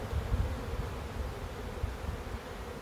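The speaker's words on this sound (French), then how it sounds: "Il y a beaucoup d'abeilles." Many honey bees hum and buzz steadily at an open hive during a visit to the brood frames, a dense low drone close by with no voices.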